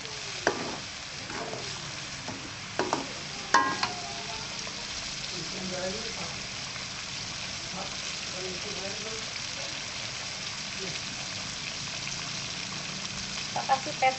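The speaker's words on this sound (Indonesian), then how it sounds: "Kita masih aduk ya." Palm sugar mixture is stirred in a pan, giving soft scraping strokes and a few sharper clicks over a steady low sizzle, quiet and close throughout.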